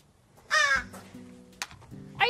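A crow caws in loud, harsh calls, with two strong bursts framing a fainter call between them, close by and with no voices.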